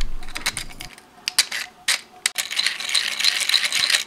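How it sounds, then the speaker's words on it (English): A 3D-printed silver pneumatic engine rotates loudly, its plastic parts rattling and clattering in rapid, uneven bursts that settle into a dense, continuous mechanical chatter with a hissing air undertone. "Silver motor sounds loud. More energy loss."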